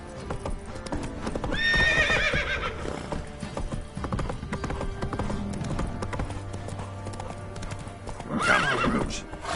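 Roach the horse gallops in The Witcher 3 with rapid, close clip-clop hoofbeats, neighing loudly early on and again near the end over the running rhythm.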